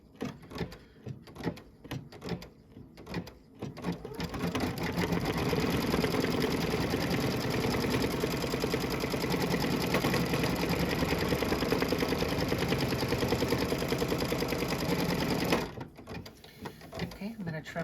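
Embroidery sewing machine stitching down a radish appliqué in carnation thread; after a few handling clicks and rustles, a loud, continuous rapid stitching whir runs steadily for about twelve seconds, then stops back to soft handling sounds.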